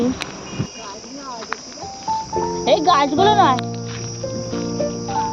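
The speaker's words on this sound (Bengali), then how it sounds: "ঝিঝি পোকা ডাকছে" Crickets chirping in a steady, continuous drone, with a child and an adult talking over them.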